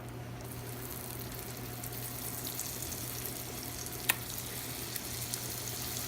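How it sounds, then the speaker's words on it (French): Cod fillet laid into a pan of melted butter over medium heat, frying with a soft, steady sizzle and one faint click midway. "Alors maintenant, on va venir déposer notre morue."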